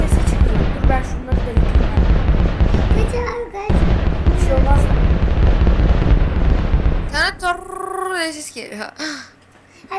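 Loud, booming TNT explosions in a video game erupt again and again, bursting under excited chatter and fading into electronic tones near the end.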